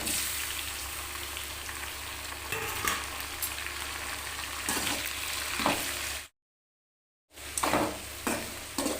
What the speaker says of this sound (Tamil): இப்போ பச்சை மிளகாய் வதங்கிடுச்சு இப்போ தக்காளி போட்டுக்கலாம்